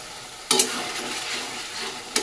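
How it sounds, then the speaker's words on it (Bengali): Spice paste and green peas stir-fried in a wok hiss with a steady sizzle, broken by two sharp spatula scrapes near the start and the end. "এবার ভালো করে কিন্তু মশলাটাকে কষাতে হবে"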